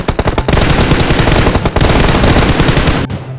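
Loud bursts of rapid automatic gunfire in a battle royale video game rattle almost nonstop, with two brief gaps, then cut off abruptly near the end.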